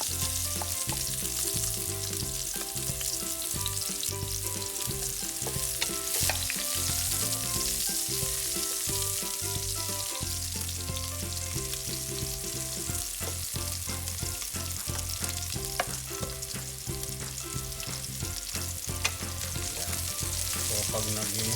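Sliced onions sauté in about two tablespoons of hot oil, a steady, close, crackling sizzle that runs without a break, with faint scrapes and stirring taps in the pan.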